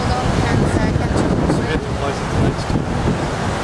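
Ocean surf and strong wind buffet the shore on the Gold Coast during Cyclone Ului, making a loud, continuous roar with gusts hitting the microphone.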